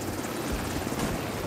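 Helicopter from Tom Clancy's The Division 2, a steady rotor and engine roar that fills the whole moment at a constant, close level with no pauses.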